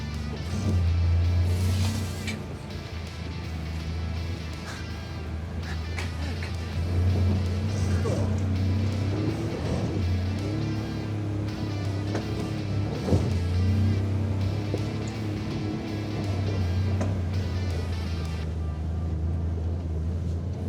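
A Can-Am Traxter HD11 side-by-side climbs a steep, loose-rock incline, its engine droning steadily up close with low rumble and rattling, while people talk over the noise.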